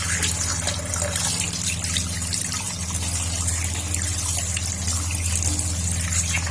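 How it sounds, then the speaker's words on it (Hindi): Water from a tap pours steadily over washed lamb liver sitting in a basket, a continuous close splashing and trickling with no talk. "अब अच्छे से फिर से इसके ऊपर पानी डाल देंगे।"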